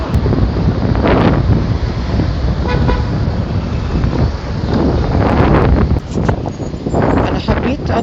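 Strong wind buffets the microphone along a seaside road in Alexandria, a loud, continuous roar with gusts rising and falling throughout, and passing road traffic may be mixed in.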